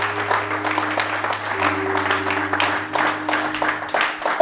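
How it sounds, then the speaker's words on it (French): A church congregation claps and applauds in praise of the Lord, a steady rhythmic wash of hands over a sustained organ or keyboard chord, with voices mixed in. "qui peut acclamer le Seigneur ici là?"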